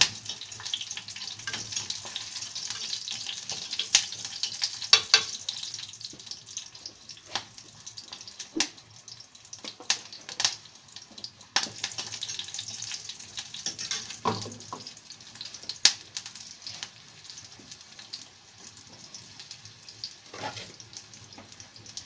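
Ingredients for picadillo sautéing in a pan, a continuous soft sizzle with occasional sharp ticks and clinks of stirring, close and fairly quiet throughout.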